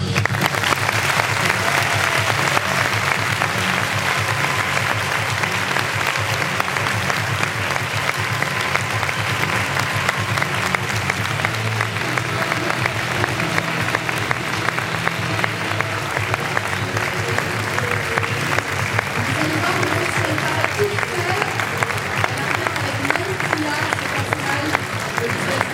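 Sustained, loud applause from a cinema audience at a film premiere greeting Rooney Mara, a dense, unbroken roar of clapping lasting the whole time with crowd noise and some speech under it.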